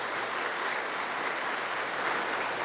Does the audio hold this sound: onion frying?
no